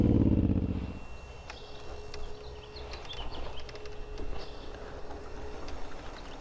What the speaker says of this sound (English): they know the sound of my motorcycle